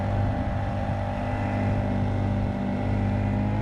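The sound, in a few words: boat with 50cc KB V3 drive outboard motor running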